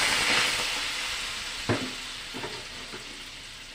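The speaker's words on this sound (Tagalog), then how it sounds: "Ilalagay ko na po itong isang tasang gata." Coconut milk poured into simmering banana blossom in a pan: a steady frying sizzle and hiss throughout, broken by a soft splash and a few brief stirring knocks.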